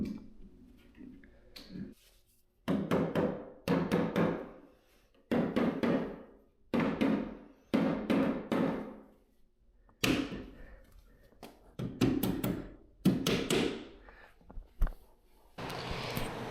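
Wooden boards for office built-ins being knocked together with biscuit joints for a test fit, heard as a series of sharp, close taps and knocks in uneven bursts with short pauses between them.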